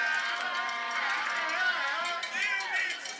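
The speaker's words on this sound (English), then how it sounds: "The college kids are fired up. You can hear them on the sideline." College fans on the sideline of a professional pickleball match cheer and shout in a lively, continuous crowd roar, with voices rising and falling throughout.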